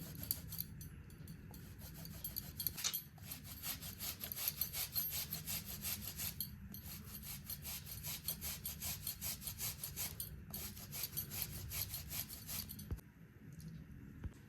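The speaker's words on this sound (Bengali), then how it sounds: "এখন এই মিশ্রণটির মধ্যেও আমি 1 ডালা গুড় ঘষে দেব" Jaggery is grated by hand into a rice flour, flour and semolina batter mix for patishapta pitha. Repeated raspy scraping strokes follow an uneven rhythm, close and fairly loud, with brief pauses between runs.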